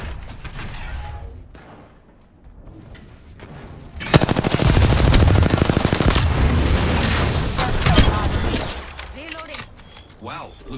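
Rapid gunfire in an Apex Legends match, with loud sustained bursts and overlapping shots that are close and dense in the middle before thinning out, while a voice speaks over it.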